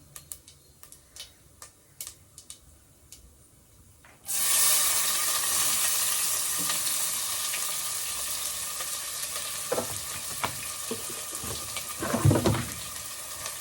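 Onions dropped into hot oil with cinnamon, clove and cardamom burst into a loud, sudden sizzle after a few quiet ticking seconds, then keep frying steadily with occasional stirring clatter, close to the listener.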